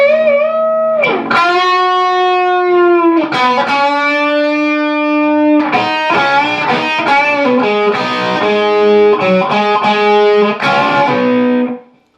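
Distorted electric guitar plays the opening of the solo, with long bent and sustained notes giving way to quicker runs, loud and alone with no talking.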